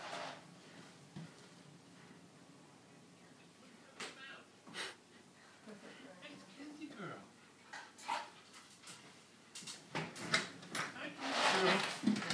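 A pet dog greeting a grandfather at the door indoors, giving soft whimpers and breathy snuffles with a few brief yips, building to louder excited sounds at the end, alongside quiet movement noise.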